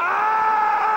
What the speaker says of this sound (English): Is it still doing the screams from the last match?